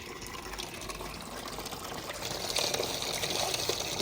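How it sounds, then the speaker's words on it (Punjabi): Cups being washed under a running kitchen tap: a steady, close gush of water runs throughout, growing slightly louder and splashier toward the end, with no talk over it. "ਹਾਂ ਇਹਨਾਂ ਨੂੰ ਧੋ ਲੈਣੀ ਆ ਪਹਿਲੇ"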